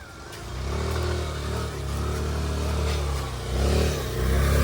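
A tractor engine drones past at close range, its steady mid-pitched rumble rising and falling slightly over several seconds as it moves by, with no voices.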